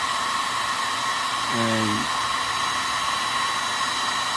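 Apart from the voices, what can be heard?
hair dryer running to dry paint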